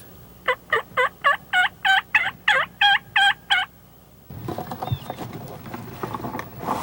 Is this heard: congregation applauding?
no